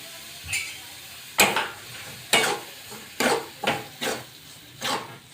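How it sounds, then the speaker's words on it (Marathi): Semolina (rava) roasting in oil for upma, stirred with a ladle in a pan: about seven distinct scraping strokes come at an uneven pace over a faint, steady background sizzle, close and alone. "तर आता रवा आपण भाजून घेऊया"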